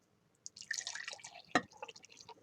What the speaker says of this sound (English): I'm going to pour it into a cup first because I don't want to lose any of it